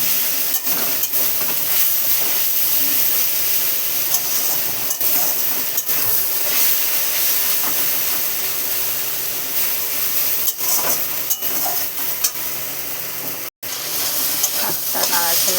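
Water spinach (kalmi shak) frying in oil and being stirred, a loud, constant sizzle and hiss with scattered scraping clicks of the utensil and one brief dropout near the end.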